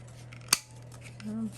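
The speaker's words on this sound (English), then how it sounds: "I don't know if this chomper can handle all of this paper at one time" A corner chomper paper punch snaps through a thick stack of paper in one sharp, loud crunch, followed by a softer rising rasp as the blade finishes, with a steady low hum underneath.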